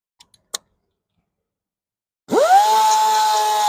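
A rotary sander spins up on a Mercedes S580 wheel rim with a fresh 320-grit pad after a few faint ticks, rising into a steady, loud whine that holds without a break.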